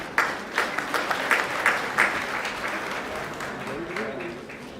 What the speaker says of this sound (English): Mr. Khan, clapping for Mr. Khan.